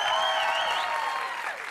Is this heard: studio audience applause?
yes